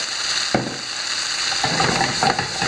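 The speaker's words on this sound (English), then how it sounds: "so that's sizzling over there" Steady frying sizzle with crackling hiss throughout, punctuated by a few louder bursts as bluefish is stirred in the pan.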